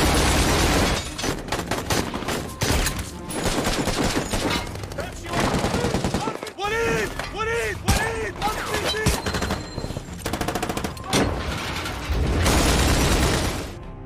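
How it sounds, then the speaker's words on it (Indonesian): Heavy gunfire in rapid, sustained bursts with occasional booms, loud and close, with brief voices breaking through between volleys. "rombongan tim SWAT tiba-tiba dihadang oleh kelompok ISIS sehingga terjadilah baku tembak lagi."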